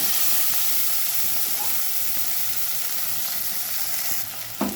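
Leafy greens and green chillies sautéing in oil in a pot, a steady close sizzle and fry hiss running throughout, with a brief clatter near the end.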